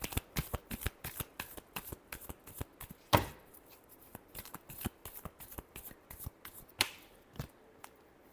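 Close, soft shuffling of a tarot deck, with quick papery flicks and riffles and two sharper slaps as the cards are knocked together, heard alone without talk.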